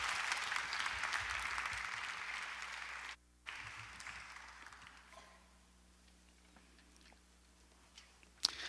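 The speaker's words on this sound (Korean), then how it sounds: "우리 강사 목사님 나오실 때 박수로 하나님께 영광 돌리시고 은혜 받으시길 바랍니다" A church congregation claps to welcome the guest pastor at an early-morning revival service, a dense steady round of applause that breaks off briefly, returns, and fades to quiet with a faint final clap.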